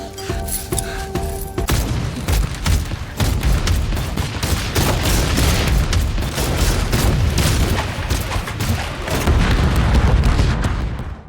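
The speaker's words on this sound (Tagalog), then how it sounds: "Ang mga pagsabog ay pumunit sa kagubatan at mabilis na nilipol ang buong koponan ni Wade" A dense, continuous barrage of explosive booms and blasts from detonated explosives in a jungle battle scene in a film, loud and sustained without let-up.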